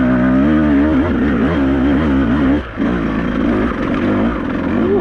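Beta 200RR enduro motorcycle engine working hard up a climb, a close, steady two-stroke drone with wavering revs, a brief dip in throttle midway, then pulling strongly again.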